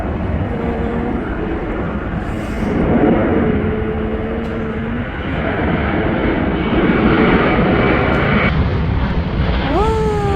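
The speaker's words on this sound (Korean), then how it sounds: "비행기 소리가 어마어마하게 커서 잠시 중단했었습니다." A loud airplane roars overhead at an outdoor flower nursery, a steady, heavy drone that swells and holds for about ten seconds with no one speaking.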